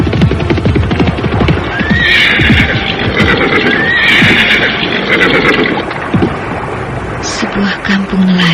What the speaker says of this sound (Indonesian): Akhirnya kuda itu bersama penunggangnya memasuki sebuah perkampungan.